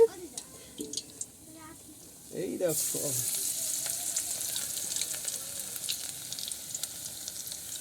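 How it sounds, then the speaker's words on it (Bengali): Coriander leaf fritters fry in hot oil, a loud hissing sizzle that starts suddenly partway through after quieter clinks and handling, then carries on steadily with a voice talking over it. "এই যে ধনে পাতার চপ ভেজে নিচ্ছি"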